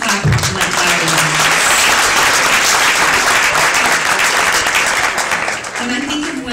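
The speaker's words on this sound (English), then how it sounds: "you guys can clap like loud." Loud, close applause fills an awards ceremony hall, a dense steady roar of clapping that tapers slightly near the end as voices come through.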